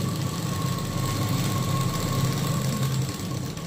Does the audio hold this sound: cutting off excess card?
no